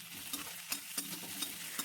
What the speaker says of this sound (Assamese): এইখিনি মই এতিয়া ৰঙচুৱাকৈ ভাজিম